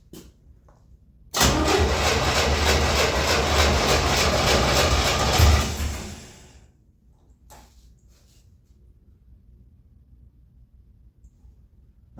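Gasser drag car fitted with a tunnel-ram intake cranking and firing up: a loud, sustained roar with rapid rhythmic pulsing that lasts about four seconds, then fades out and shuts off into near quiet.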